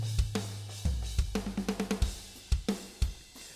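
Drum kit from the GGD P5 Atropos Full Turbo preset, slightly modified, playing a short metal pattern: deep kick hits, a fast run of punchy tom or snare strikes, then a few spaced accents, clear and alone.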